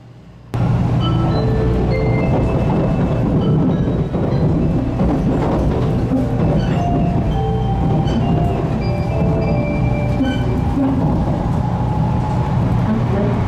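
A 500 series Shinkansen train on the Kodama service departs Hakata station, heard from on board as a loud, continuous rumbling roar that starts abruptly and builds steadily.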